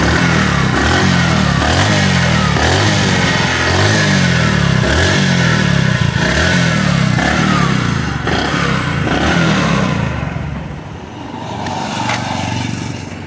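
A motorcycle engine revs loudly and continuously close by, with repeated rising and falling throttle surges, while a used bike in fresh condition is shown for sale; it stays alone with no talk over it.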